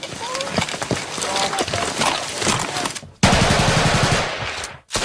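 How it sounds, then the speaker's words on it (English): Gunfire breaks out in a Taliban ambush on a village in Afghanistan, with rapid bursts and scattered sharp shots amid shouting and chaotic movement, up close and loud. "There's chaos as the shooting begins and the adrenaline flows"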